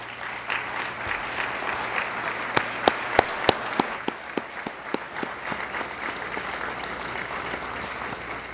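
Steady, loud audience applause fills a hall at a community crime summit, with sharp individual claps standing out over a continuous clapping wash that holds throughout.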